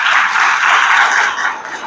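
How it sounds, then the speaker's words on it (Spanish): Church congregation claps loudly, a dense, continuous roar of hands that stays strong throughout and eases slightly near the end. "Vamos a aplaudir un poco bien fuerte."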